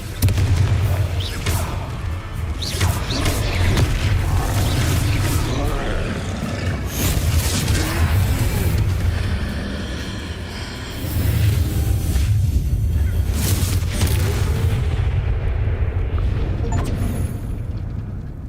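Confringo blasting-spell explosions in the video game Hogwarts Legacy, loud rumbling booms one after another for most of the stretch, fading briefly before another burst and then dropping off near the end.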